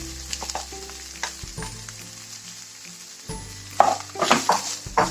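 Spiced onion masala sizzles and fries in a pan, with bursts of stirring and scraping, close and moderately loud, with no talking.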